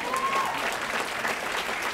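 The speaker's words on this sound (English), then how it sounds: "Can I get a clap for that?" An audience at a leadership success conference breaks into sustained applause, a dense wash of clapping from a crowd that continues steadily for about two seconds.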